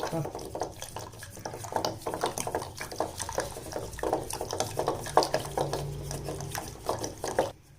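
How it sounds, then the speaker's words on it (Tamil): Curd whisked into buttermilk in a pot for a bottle gourd moor kuzhambu, quick rhythmic swishing and light clinks of the whisk against metal, close by, with a voice talking over it. "விஸ்க் வச்சு நல்லா கடைஞ்சி இதில் கடைஞ்சி மோராக்கிக்கணும்"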